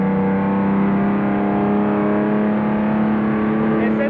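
A 1962 Aston Martin DB4 GT engine held at full throttle onboard at Spa, a loud, steady, droning roar with strong even tones and no letup.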